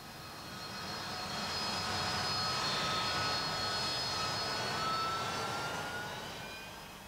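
A Harrier jet at the 1999 Le Bourget air show roars overhead, its engine swelling in and fading out with a broad rushing whine and tonal whistling, loud and steady in the middle.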